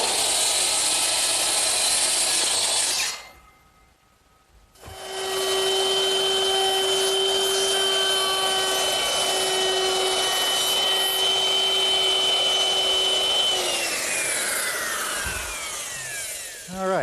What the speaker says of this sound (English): that 1/4-inch rounding over bit does a nice job at easing all the edges on the seat